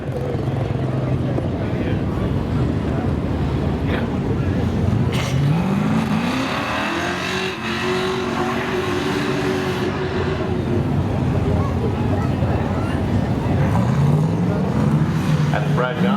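Camaro drag race cars at Seekonk Speedway coming off the corner, loud engines revving and rising in pitch over constant track noise, with an announcer talking over them.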